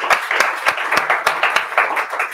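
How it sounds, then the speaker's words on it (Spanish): Hands clap in a steady, fairly even rhythm, about ten sharp close claps over a couple of seconds from a small group at a Value School investing talk, loud and distinct without any talk. "Y con este aplauso ya se lleva una muy buena experiencia."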